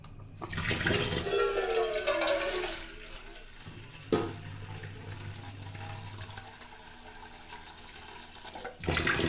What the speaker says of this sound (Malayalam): കുറച്ച് വെള്ളം